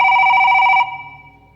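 Telephone ringing with an incoming call, a loud electronic bell tone that sounds once and then rings out into silence.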